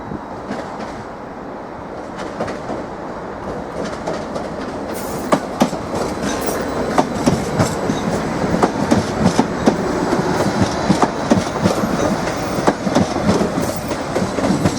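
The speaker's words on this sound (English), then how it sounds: "Seven 55408, now arriving into platform 3." A train pulls into platform 3 at Norwich station, the rumble building and then giving way to loud, rhythmic clickety-clack of wheels over rail joints with scattered sharp clanks, close by and with no talk.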